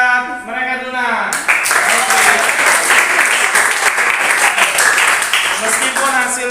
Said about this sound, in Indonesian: Tepuk tangan buat mereka dulu nah.